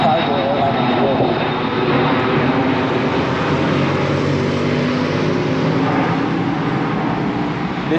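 A cargo airplane at Luxembourg airport gives a loud, continuous broadband engine roar that holds steady throughout, heard from fairly close with no speech over it.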